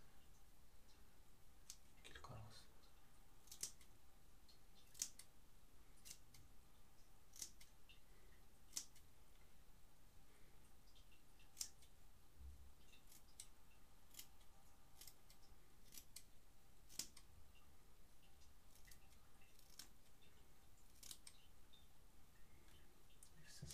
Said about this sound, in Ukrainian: Робимо цими ножицями.